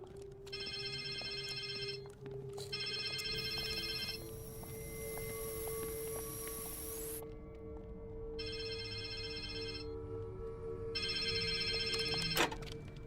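An electronic telephone ring repeats in four distinct bursts separated by short pauses, heard over a steady low hum.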